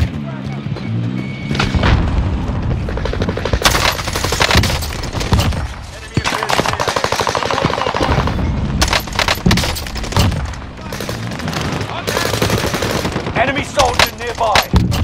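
Heavy automatic gunfire and booming explosions from the shooter game Call of Duty: Modern Warfare, dense, loud and nearly continuous bursts with brief gaps, mixed with shouted in-game voices.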